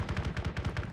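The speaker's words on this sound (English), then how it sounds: "We've got shots to the southeast." Rapid gunfire from the military shooter ArmA 3, a burst of about eight to ten evenly spaced shots at moderate distance, with no talk over it.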